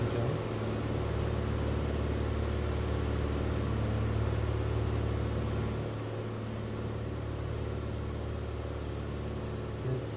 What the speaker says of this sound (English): I can lower the volume of the engine.